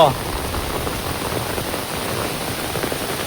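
Heavy rain pouring down on an Assam village, a steady hiss of drops pattering on surfaces, close and even from start to finish.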